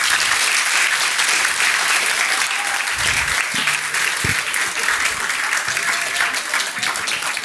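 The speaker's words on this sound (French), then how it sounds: "Vous pouvez l'applaudir encore une fois" A conference audience applauds steadily with dense, continuous clapping at close range, and a few brief voice fragments sound under it near the middle.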